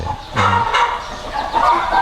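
Chickens cluck at a fighting cock farm in Chachoengsao, Thailand, with short, close clucks coming in a few uneven bursts over steady barnyard background noise and no talking.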